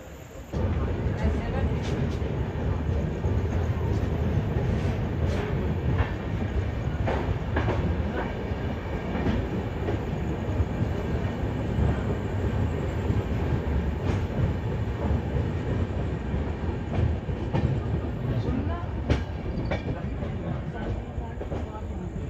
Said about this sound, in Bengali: তো ট্রেন ছেড়ে দিচ্ছে।